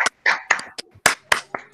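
Scattered applause from a small audience at a masterclass on propaganda posters: a few loud, sharp, irregular handclaps close by, with brief gaps between them and no talking.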